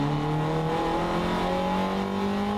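Race car accelerating hard off the grid at a Circuit Excel round, its engine note climbing steadily after the shift into second; loud, close and continuous with no voices.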